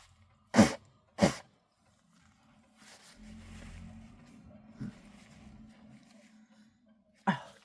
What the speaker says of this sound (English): I'm going to need to blow my nose now.